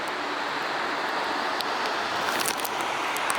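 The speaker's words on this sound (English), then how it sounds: "Check out this gorgeous waterfall." Dynjandi waterfall in Iceland's Westfjords gives a steady, broad roar of falling water, constant and fairly loud for the whole stretch with no voices.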